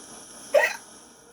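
A single short hiccup, one sharp voiced catch in the throat, clear and close against a quiet background.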